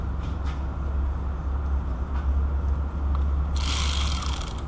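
Ratchet wrench cranking loose engine bolts on a Pontiac G6 during water pump replacement, a faint steady clicking buried under low rumbling background noise, with a brighter burst of ratcheting toward the end.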